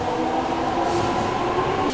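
A regular local train rolls through a station in Japan as a loud, continuous rumble and hum, with faint wheel clatter and a steady metallic whine, heard close and without talk.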